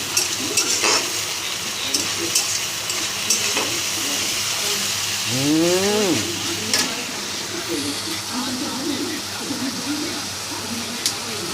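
Ginger garlic paste frying with meat in a pan makes a steady, crackling sizzle, with occasional utensil clinks and stirring, and a short sliding vocal sound partway through.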